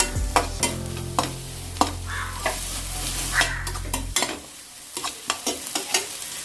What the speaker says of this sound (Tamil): இப்போ நல்லா ஹை ஃப்ளேமில் வச்சு மிக்ஸ் பண்ணிக்கோங்க